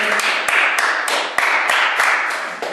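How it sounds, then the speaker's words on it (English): A class gives a round of applause in a lesson setting, a loud, close burst of many hands clapping in a fast, uneven rhythm that fades a little toward the end. "let's go on to a round of applause"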